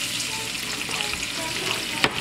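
A pangasius fish dish simmers in a pan, giving a steady close sizzling, bubbling hiss throughout with a brief louder stir or clink near the end.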